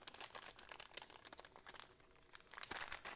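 Thin plastic bags from a GoPro accessory pack crinkle and rustle in quick, irregular bursts close by, with sharper crackles near the start and end.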